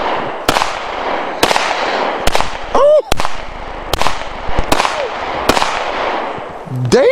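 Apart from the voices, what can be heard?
gunshots from a 9 mm pistol at a gun range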